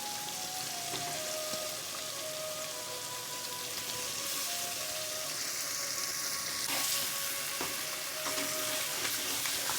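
Pangas fish heads fry in a cooked-down spice paste with sliced green chillies, giving a steady close sizzle and crackle throughout with a few light stirring knocks and no talk.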